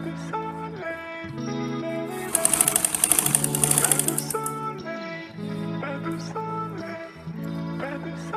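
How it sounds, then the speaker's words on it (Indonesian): A sewing machine stitches the plain front panel of an A-line gamis dress, a loud rapid burst of stitching for about two seconds over background music. "kita jahit bagian polosnya terlebih dahulu sebelum kita menjahit ke bagian sisi."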